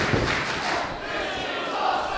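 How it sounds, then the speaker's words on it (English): Wrestling crowd at a PWA match chanting together, a steady, dense roar of many voices filling the venue throughout, with occasional thuds. "This is awesome chant from the PWA crowd"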